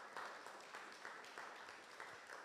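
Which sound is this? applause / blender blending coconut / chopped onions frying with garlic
applause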